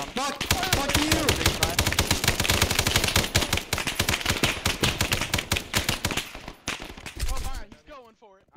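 Dense, sustained automatic gunfire in the military shooter game Arma 3, rapid rhythmic bursts that run loud and almost continuously for about seven seconds before breaking off into a few scattered shots and a brief tail.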